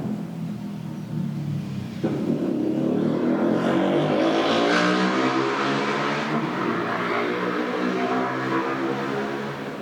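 Motorbike engines pass close by on a road, a steady loud rumble that swells in the middle and then fades slightly, with no talking.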